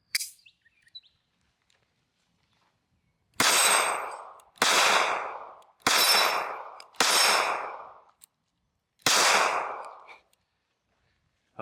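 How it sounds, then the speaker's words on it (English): Five sharp 9mm pistol shots from an SCCY CPX-2, fired at irregular intervals about a second apart, each a loud close crack with a decaying tail, following a quiet lead-in. "Let's shoot a couple more mags real quick."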